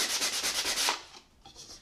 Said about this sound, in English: And then I'm just going to sand these off a little bit.